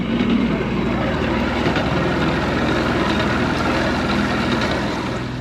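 An outboard boat motor runs steadily on a river with a slight rattle in its note, a continuous loud engine drone close by with no pause throughout.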